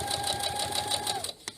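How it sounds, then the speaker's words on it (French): Domestic sewing machine stitching fabric borders on a soft toy, a close rapid whirring chatter that runs steadily then stops, followed by a single small click. "pour aller coudre les bordures, on va toujours commencer avec notre doudou"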